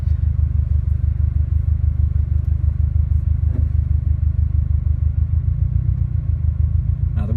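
A 2017 Subaru WRX STI fitted with an Invidia R400 cat-back exhaust, heard from inside the closed cabin as a steady, deep low rumble with a faint brief rise near the end.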